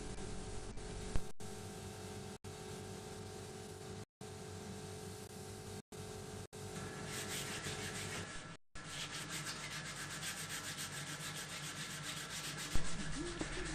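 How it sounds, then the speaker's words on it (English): Steady abrasive rubbing as the first coat of black paint is flattened back on a Cyclemaster part, a continuous rasping texture broken by a few brief pauses, close and fairly quiet. "Here I'm rubbing out the first coat of black"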